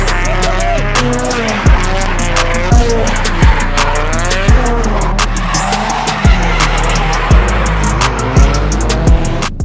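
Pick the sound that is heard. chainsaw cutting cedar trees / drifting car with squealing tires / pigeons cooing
drifting car with squealing tires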